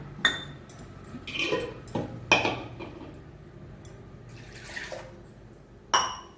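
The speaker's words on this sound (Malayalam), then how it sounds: "എന്നിട്ട് ഈ ചക്കയിൽ 1/2 കപ്പ് അത്ര വെള്ളം, പച്ച വെള്ളം," Plain water is poured onto jackfruit in a pot, heard close up as short splashes mixed with metal clinks and knocks against the pot, spaced irregularly, with no one talking.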